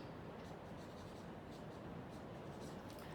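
Handwriting on paper nearby, a quiet continuous scratching of pen or pencil strokes with faint irregular bursts, heard alone and low in level.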